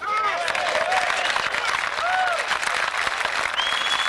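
Audience at an outdoor jazz concert applauding a drummer, loud sustained clapping with some crowd noise mixed in, while gliding whistle-like tones rise and fall over the top.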